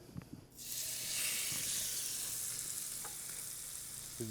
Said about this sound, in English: That's how you know you're hearing that sear.